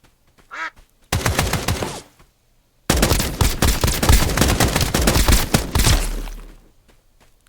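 An RPK machine gun fires in the game Escape from Duckov, two loud, close bursts of rapid automatic shots, one about a second long and a longer one lasting around three seconds, with a brief quacking sound at the start.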